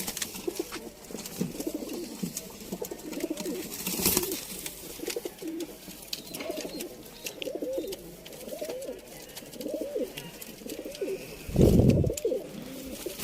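Sialkoti pigeons, young birds kept for sale, coo in repeated soft throaty phrases at close range, with a brief sharp knock and a burst of rustling noise partway through.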